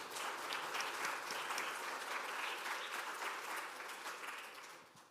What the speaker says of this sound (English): Round of applause to Peggy and the St. Andrews team.